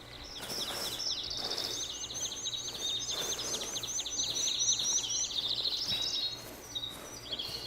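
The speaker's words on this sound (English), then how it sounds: "Go find that bird I hear." Bird calls from theHunter: Call of the Wild while hunting pheasant in Salzwiesen Park: repeated high chirps and whistled notes run throughout over a soft outdoor ambience, moderately loud and fairly near.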